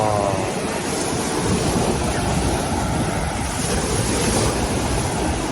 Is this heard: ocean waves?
yes